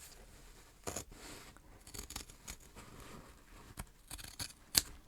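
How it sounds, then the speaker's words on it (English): Quiet scissors snipping through stiff oilcloth, several irregular cuts with faint rustling between them, close by. "could easily follow the markings with my scissors"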